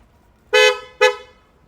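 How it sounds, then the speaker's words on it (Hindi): A Hella brand horn fitted to a Tata Nexon gives two short, loud, bright honks close by, the second slightly shorter. "हमने हॉर्न लगाया है, ठीक है। हेला ब्रांड में रहने वाला है।"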